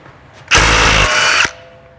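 A power impact tool fitted with a 19mm socket drives off a wheel lug nut on a 2008 Subaru Outback: one loud, steady whirring burst of about a second, close up, with a hard cutoff.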